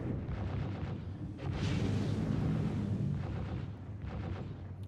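Ship turret gunfire in Star Citizen from a Drake Corsair, a steady loud barrage of rumbling booming shots that swells in the middle and continues to the end, with no voices over it.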